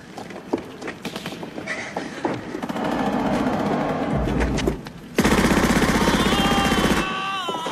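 A war film battle scene near Stalingrad erupts in sustained machine-gun fire and scattered rifle shots, loud and chaotic, with rapid bursts rolling together and a heavier barrage swelling near the end.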